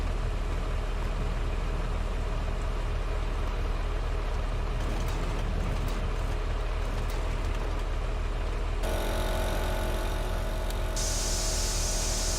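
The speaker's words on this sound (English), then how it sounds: "Just spray it off." Pressure washer spraying down farm machinery after seeding in Farming Simulator 22, a steady hiss over low engine idle, with the tone shifting brighter partway through as the spray continues without talk.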